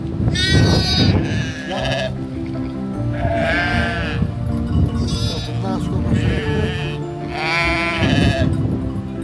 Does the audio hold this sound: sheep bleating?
yes